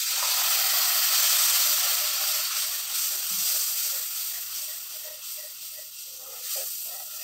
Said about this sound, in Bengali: এর মধ্যে আমি মিক্সিতে যে মশলাটা ছিল একটু জল দিয়ে ধুয়ে দিয়ে দিচ্ছি